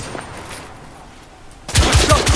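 Gunfire in The Order: 1886, arriving after a quiet stretch as a sudden loud burst of several rapid, closely spaced shots near the end.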